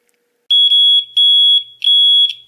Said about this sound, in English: that is typically in these carbon monoxide detectors or in smoke detectors. They're very loud